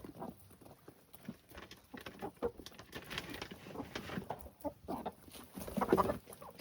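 Chickens peck at mealworms outdoors, making a soft, irregular patter of quick taps with low clucks scattered through. The sound is faint and close.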